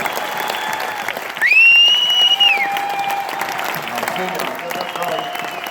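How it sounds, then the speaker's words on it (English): A crowd applauds steadily for A.J. Stewart at a NASCAR event, a bright whistle cutting through the clapping near the start before the applause carries on at an even level. "Big round of applause, ladies and gentlemen, for Mr. A.J. Stewart"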